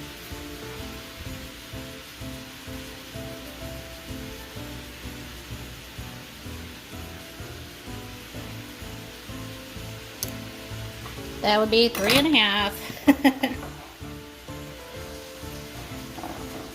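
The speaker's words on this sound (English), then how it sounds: "I am frying up a pound of ground beef to go in these beans as well" Steady sizzling of a pound of ground beef frying in a pan, with a brief burst of louder clattering and scraping near the end and a short spoken remark.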